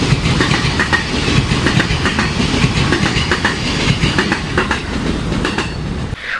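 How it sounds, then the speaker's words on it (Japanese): A train runs on tracks right beside the Horiai underpass near Mitaka Station in Tokyo, its wheels beating a loud, steady clickety-clack over the rail joints under a constant rolling rumble, close and without voices. "あとジョイント音もいいしね"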